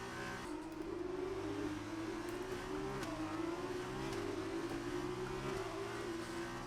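Sustained F2 2019 racing car engine noise on the Austrian GP circuit, a steady loud whine with shifting pitch as the rear tyres spin and the revs flare, continuous and close with no talk over it.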